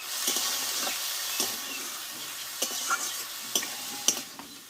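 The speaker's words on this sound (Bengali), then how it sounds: "এক মিনিট মতো ভালোভাবে নাড়াচাড়া করে নেবো" Motor shak (pea greens) stirred in a pan, giving a steady soft sizzle with a series of scraping stirs and clinks spaced through it, close and moderately loud.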